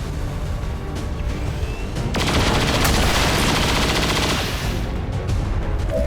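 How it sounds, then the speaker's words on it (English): Saturation fire in XCOM 2 erupts as a loud, dense burst of rapid gunfire that roars for a couple of seconds, set between quieter game ambience. "They're close enough together that we can hit them all with saturation fire though."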